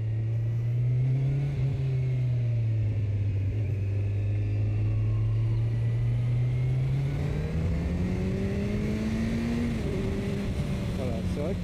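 A performance motorcycle engine drones loudly and close, its pitch dipping and then climbing steadily as it accelerates over several seconds, with no pauses.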